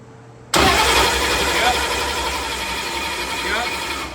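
A Procharger-supercharged Ford Mustang engine cranks and fires after half a second of near silence, then settles into a loud, steady running rumble with a rough, pulsing idle.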